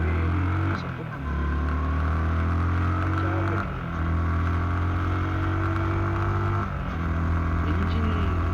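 A Yamaha R15M V4 motorcycle engine drones loudly up a hill road, with a steady rising note that dips briefly at a few gear changes and climbs again.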